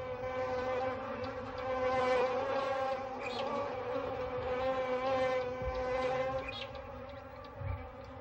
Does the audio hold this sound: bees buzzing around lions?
yes